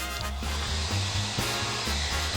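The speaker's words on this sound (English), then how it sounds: "here is a hairdryer" A hair dryer blows steadily with a broad rushing hiss and low motor hum, continuous and close throughout.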